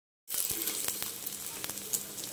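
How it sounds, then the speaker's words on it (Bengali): Paratha fries in a hot pan with a steady close sizzle and small crackling pops, with no voices over it. "একইভাবে সব পরোটাগুলোকে আমি ভেজে নেব।"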